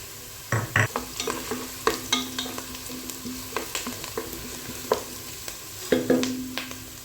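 Whole cardamom pods, black peppercorns and cloves fry in hot oil for chicken kabsa, with a steady soft sizzle broken by repeated clicks and scrapes of stirring close by.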